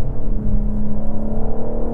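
A 2024 BMW M4 xDrive Competition accelerates hard, heard from inside as a loud, steady engine drone with a rising tone and pulsing rumble. No one speaks.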